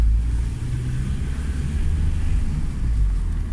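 A Volkswagen Passat B4 1.9 TDI with nearly 500,000 km on it drives along, a steady low engine and road rumble heard from inside the car, with no one talking.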